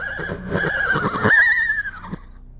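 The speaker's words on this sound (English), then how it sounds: "They make moaning noises for a solid minute, which then transitions into horse noises." A horse whinnies loudly and close in a creepy advertisement, a long wavering neigh that rises and then trails off, with no talk over it.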